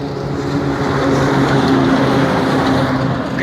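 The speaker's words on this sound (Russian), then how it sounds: "Короче, машина проехала, там грузовик какой-то." A car and then a truck pass by on the road, a loud, broad engine and tyre rush that holds for several seconds and swells slightly toward the end.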